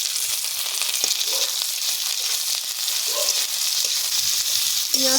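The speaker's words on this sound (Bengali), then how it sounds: "তেল গরম হয়ে গেছে। এবার পেঁয়াজটা লাল লাল করে ভেজে নেব।" Onions frying in hot oil in a wok, a steady bright sizzle running throughout with a few faint clinks of utensils beneath it.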